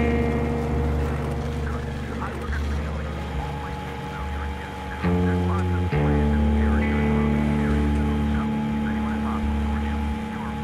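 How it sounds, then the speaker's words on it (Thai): A motorboat engine in the Metro Exodus video game drones steadily with a low tonal hum that shifts pitch partway through, under a Thai-speaking voice. "ซึ่งวิธีการเดินทางในพื้นที่โซนนี้นะครับก็จะใช้เรือเป็นหลักที่สำคัญก็คือเป็นเรือยนต์นะครับ"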